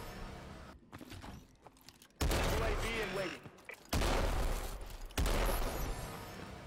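Heavy sniper rifle shots, the Atlas 20MM in Call of Duty: Advanced Warfare, boom out three times at uneven intervals, each a loud blast with a lingering tail over game noise.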